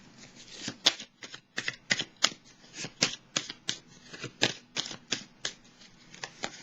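Tarot cards are shuffled and dealt, a quick series of crisp riffling flicks and soft slaps, close and fairly quiet, in an irregular rhythm of about twenty bursts.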